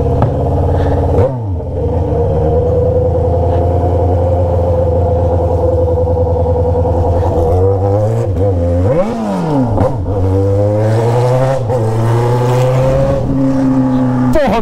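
Yamaha XJ6 motorcycle fitted with a 3-inch Atalla exhaust, running loud and close with a deep steady idle, then sharp throttle blips that swoop up and fall back before settling into a rougher rumble.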